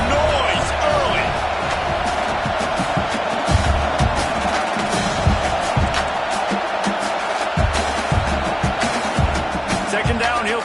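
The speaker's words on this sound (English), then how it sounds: "This crowd bringing the energy and noise early." A college football stadium crowd roars in a steady, dense wall of cheering and noise, with a commentator talking over it throughout.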